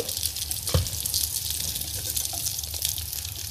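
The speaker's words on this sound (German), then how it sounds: "ich muss noch abgießen" Cooking water being poured off from a pot into a kitchen sink, a steady near gush of splashing water with one brief clunk early on, no talking.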